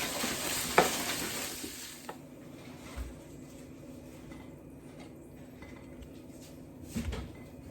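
Butter sizzles in oil in a pan, a faint, steady frying hiss with a sharp clink near the start and a soft bump toward the end.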